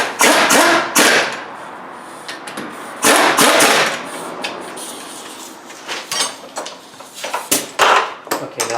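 Brake caliper bolts are snugged up on a 2007 Chevy Silverado during a front brake and rotor job, with irregular metallic clicks and ratcheting bursts, close and fairly loud, separated by short pauses.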